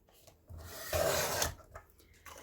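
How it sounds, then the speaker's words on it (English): A paper trimmer cuts through a single paper sheet with one brief rasping slide in a quiet room, followed by faint handling noise. "Run that through my trimmer."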